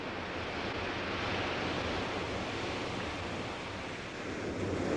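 Surf washes onto a black volcanic sand beach in Hawaii, a steady broadband roar of breaking waves with no distinct individual crashes, continuous and fairly loud throughout.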